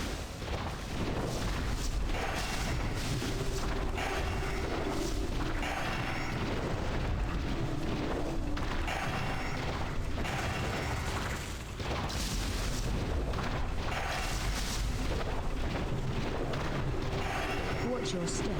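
Heavy, continuous booming cannon fire from an anti-personnel assault cannon during a World of Warcraft raid, dense rumbling blasts layered over battle noise with voices talking throughout.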